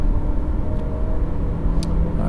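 A 2020 Mazda 3 hatchback is driven on a racetrack at sunset, its engine a steady loud droning rumble heard from inside with a faint rising whine and brief higher hiss bursts.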